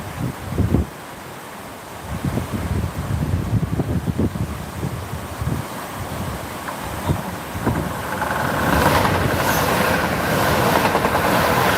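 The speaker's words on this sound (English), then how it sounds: "Freight train, finally." A freight train hauled by a Class 66 locomotive rumbles past at Dawlish with rhythmic clattering wheels, then a rising roar of wind and rail noise as it draws closer; no one speaks.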